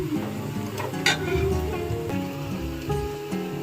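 Onions fry in a pan for biryani with a steady, soft sizzle and crackle beneath background music and a few stirring clinks.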